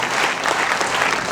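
Audience applause at a tribute concert honouring national heroes in Ahmedabad, a dense, loud sustained clapping from a large crowd with no speech.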